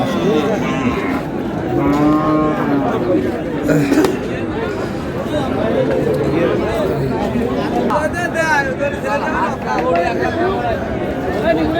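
Sahiwal bulls at a livestock market in Dinajpur moo loudly several times close by, amid crowd chatter and people talking.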